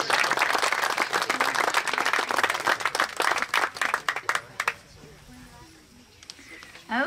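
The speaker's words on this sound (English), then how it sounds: "I think that deserves a round of applause" Applause from a crowd at an outdoor high school ground breaking ceremony, dense clapping for about four and a half seconds that then thins out and fades to quiet outdoor ambience.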